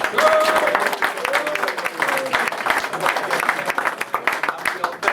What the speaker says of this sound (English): So I think a round of applause for George